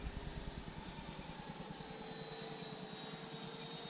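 An Avanti RC model jet flies over a crowded model airfield, giving a faint, steady turbine whine with a thin high tone above a low rumble, distant and continuous.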